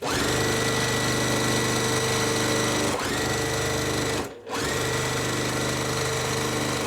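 A sewing machine stitches pieces of a quilt block together, running in a steady, close, continuous whir with a slight hitch near three seconds and a brief stop just past four before it resumes.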